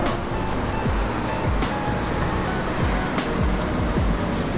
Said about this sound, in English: Lady London decided to start pouring on us